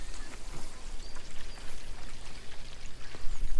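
Water pours from a hand pump at an off-grid well, a steady broadband splashing and trickling that runs continuously through the moment with small surges, fairly close and moderately loud.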